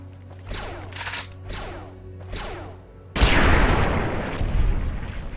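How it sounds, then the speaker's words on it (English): An explosion in the video game Fallout: New Vegas, preceded by a few sharp gunshot-like bangs, then a loud close boom that rumbles and decays over several seconds. "Explosion."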